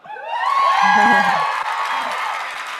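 A crowd at a Scentsy family reunion event claps and cheers, with whoops over steady applause. The noise is loud and close and rises quickly, with a few shouts standing out above it.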